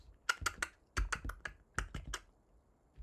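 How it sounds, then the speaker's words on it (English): Bursts of crisp keyboard typing, rapid clusters of key clicks separated by short pauses, close and clear against silence. "then they play the typing sound"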